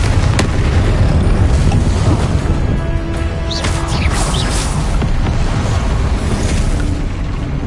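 A Confringo blasting spell explodes in the video game Hogwarts Legacy, a loud, dense roar of booming blasts and crackling debris that fills the whole stretch without a pause.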